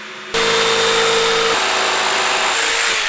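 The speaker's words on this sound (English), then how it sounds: "He's currently cutting a piece to go along that bottom bit there to fill behind the kitchen" A power tool cuts a piece of wood for a van build, giving a loud, steady, high-pitched whine and rasp that starts abruptly and carries on with a slight shift in pitch partway through.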